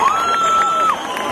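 A concert crowd cheers and applauds for a band at a 3FM Serious Request event in Enschede, a loud, steady roar with a whistle-like tone and shouts, no talk over it.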